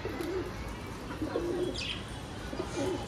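Several pigeons coo softly in low, rolling murmurs against a steady background hum, with a faint chirp in between.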